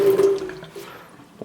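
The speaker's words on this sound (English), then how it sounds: "There's running water in this house." Running water from a tap in an abandoned farmhouse gushes loudly for a moment, then trails off into a quieter trickle, with a brief clatter at the end.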